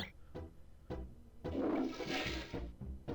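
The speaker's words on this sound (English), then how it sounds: "Now that we are a small and cute pumpkin, it's time to get flushed." A toilet flushes in the video game Banjo-Kazooie, inside Gruntilda's haunted house: a roughly one-second rushing, gurgling swirl of water breaks in between steady rhythmic game-music beats.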